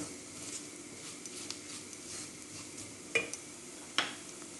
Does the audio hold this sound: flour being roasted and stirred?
yes